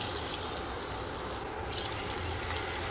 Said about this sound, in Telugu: మసాలా నీళ్ళు అలాగే ఒక గ్లాసు మామూలు నీళ్ళు కూడా వేసుకోండి